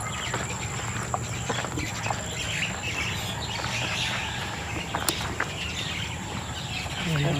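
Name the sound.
many birds chirping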